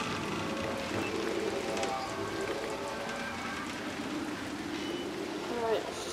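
Heavy rain falls in the video game Little Nightmares as a steady, dense hiss throughout. A player talks excitedly over it, and a brief louder splash comes near the end.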